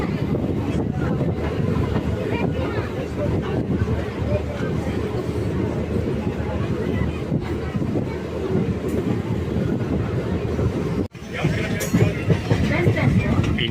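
A train on the India-Nepal line between Janakpur and Jaynagar rolls along with continuous rumbling and wheel clatter, while a person talks over it.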